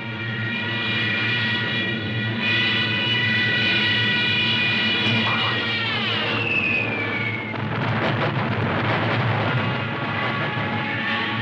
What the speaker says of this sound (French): Les Stukas, avec leurs sirènes qui sèment la terreur.